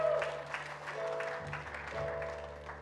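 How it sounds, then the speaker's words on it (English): A Sunday service congregation claps together in praise, a steady moderate wash of hands with organ or keyboard tones sustained underneath. "Let's give the Lord a big hand clap of praise this morning."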